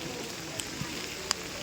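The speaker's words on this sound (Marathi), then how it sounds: "बघा गाईज, किती छान पाऊस येतोय." Monsoon rain falls softly in the hill station of Matheran. It is a faint, steady patter with a few scattered drips and light taps.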